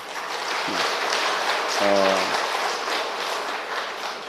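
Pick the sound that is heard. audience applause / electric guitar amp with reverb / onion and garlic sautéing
audience applause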